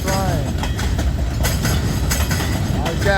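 A freight train stalled on a hill in Abbeville at night, rail cars creaking and groaning with metallic squeals and clanks, a loud, close, uneven grinding that rises and falls.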